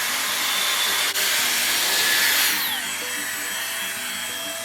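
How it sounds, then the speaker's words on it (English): Dyson Airstrait hair styler drying hair roots, a loud steady close airflow hiss and motor whine that shifts in tone partway through, with no talking. "You can use this part to kind of dry the roots."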